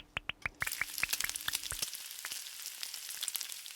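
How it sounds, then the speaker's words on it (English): Bacon and onions fry in a pan on a stovetop over medium-high heat. A quick run of sharp crackling pops gives way to a steady, close, hissing sizzle with scattered spits. "while our bacons and onions are cooking away over medium-high heat and getting all nice and golden and crispy"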